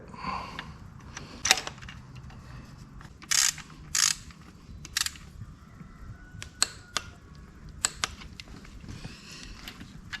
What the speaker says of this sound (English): so you torque your rod down